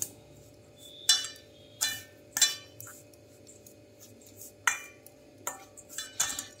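Flour and semolina being mixed in a bowl, a series of sharp clinks and scrapes of a spoon against the bowl at an irregular pace, fairly quiet and close.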